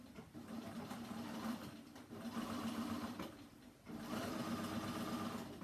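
Sewing machine running steadily as it hems a jersey knit skirt, a close, continuous mechanical whir with two short pauses and changes in speed, and no voices.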